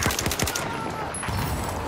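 Rapid SKS rifle shots in Battlefield 4 crack out in a quick burst of four or five sharp reports at the start, then give way to a noisy game background with scattered faint sounds.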